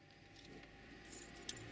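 Car keys jangle briefly as they are pulled from a vehicle's ignition after the engine is switched off, a soft metallic rattle with one sharper clink near the end, faint and close.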